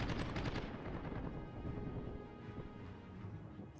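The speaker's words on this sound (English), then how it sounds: "We do manage to shoot down one of the aircraft though." Gunfire from fighter aircraft in the naval combat game World of Warships, heard as rapid, loud bursts of automatic fire that fade into a rumbling din, with no voices.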